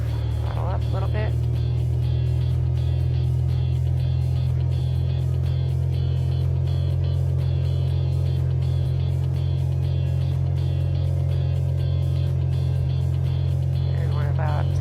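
Cessna 172SP engine in a flight training device drones steadily at a loud, constant low pitch as the throttle is nudged up, with a pilot talking over it throughout.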